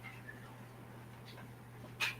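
A dog whimpering indoors, soft, brief whines and a higher yelp near the end over a steady background hum, faint and somewhat distant.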